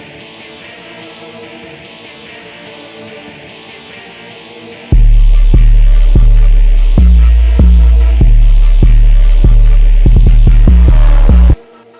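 Playback of a rage rock beat made in FL Studio: heavy booming bass hits and punchy drums pound in a steady rhythm after a quieter droning intro, loud and close, ending abruptly.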